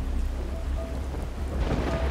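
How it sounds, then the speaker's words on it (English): A thunderstorm lashes a cruise ship at sea: heavy rain pours steadily and low thunder rumbles continuously beneath it, loud and close, with no voices. "The following day, the cruise ship hit stormy weather."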